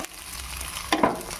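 A ragi dosa sizzles steadily in a hot oiled pan, and a short scrape with a soft slap partway through marks it being flipped up close.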